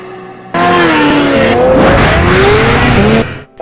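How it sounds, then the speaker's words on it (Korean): DTM race cars skidding with loud tire squeal, a sustained close screech with a shifting pitch that bursts in suddenly, runs for about three seconds, and then fades. "유럽 3대 명차들의 격전지 DTM 레이싱."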